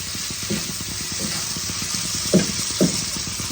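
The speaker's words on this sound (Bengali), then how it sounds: "ভালো করে মশলার সাথে কষাবো।" Gobindobhog rice being sautéed with spices in a pan, a soft steady sizzle with a spoon scraping and stirring in a few distinct strokes, heard close with no talk.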